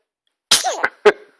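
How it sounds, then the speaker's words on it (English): A baby sneezes twice in quick succession, two short bursty sneezes close to the mic, with a soft vocal squeak between them. "Good sneezes, buddy."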